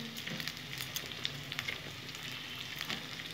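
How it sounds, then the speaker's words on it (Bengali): White stems of Chinese cabbage fry in a pan with a dense, steady sizzle, crackling pops scattered throughout, close up and with no voices. "সাদা অংশটা যেটা কাণ্ড সেটা আমি ভেজে নিয়েছি।"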